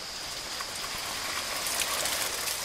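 Steady rain pours down in a forest, a dense even hiss of drops on leaves and ground, loud and close with no voices.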